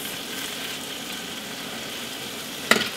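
Vegetables and onion sautéing in a pan: a steady, even sizzle running throughout, with a brief clatter near the end.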